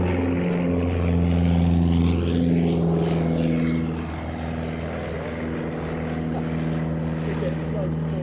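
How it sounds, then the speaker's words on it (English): A propeller aircraft performs a flying display at the Little Gransden Air Show, its steady droning engine tone passing close overhead and easing off slightly, with a voice speaking over it. "You'll appreciate just what a brilliant display this pilot is putting this amazing aircraft through."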